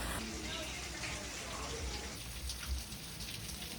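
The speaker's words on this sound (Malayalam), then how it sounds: "മഴ കൂടി ഉണ്ടല്ലോ." Rain falls steadily at the Ponmudi hill station, a dense, even patter and wash of drops hitting surfaces that fills the whole short stretch without letting up.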